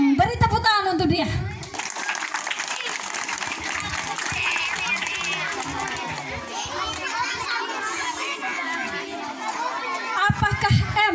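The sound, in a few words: children applauding in class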